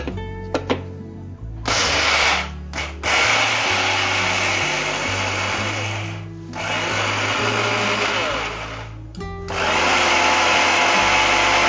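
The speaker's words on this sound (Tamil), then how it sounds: "தேங்காய் துருவல் எல்லாம் சேர்த்து இப்ப அரைக்க போறீங்க." A kitchen mixer grinder whirs loudly, grinding grated coconut for a poriyal kootu, running in sustained bursts with brief pauses between pulses.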